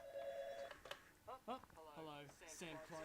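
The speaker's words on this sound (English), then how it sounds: "A phone call." A telephone rings in the horror video game Five Nights with 39: a short electronic ring tone at the start, after which a voice speaks over quiet game sound.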